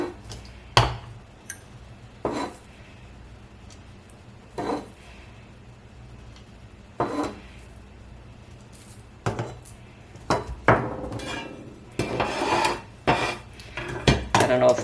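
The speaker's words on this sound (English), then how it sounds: "I'll grind the rest of this" Dehydrated cooked eggs are ground by hand with kitchen tools, making scattered sharp clinks and scraping knocks that come irregularly at first and then cluster more quickly near the end, close by and with no talking.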